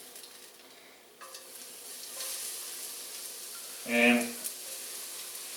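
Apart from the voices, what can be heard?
thin sliced yellow onion sizzling in a hot pan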